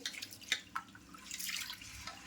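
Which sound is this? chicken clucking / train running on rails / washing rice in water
washing rice in water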